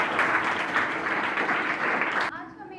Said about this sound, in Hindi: तालियां तन्नू के लिए।